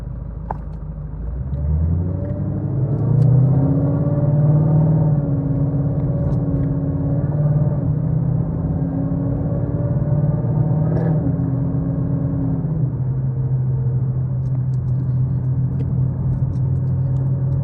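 A vehicle fitted with a Stage 3 RSA 10R80 transmission accelerates hard on a drive. It gives a loud, continuous engine rumble whose pitch climbs and shifts through gear changes, then settles into a steady drone.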